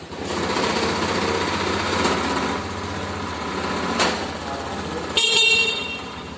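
A Honda motorcycle engine idles with a steady buzzing hum, and a brief sharp mechanical burst comes near the end. There is no talking.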